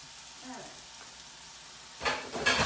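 Food frying in a covered pan at home, with a soft sizzle that swells into louder crackling bursts near the end.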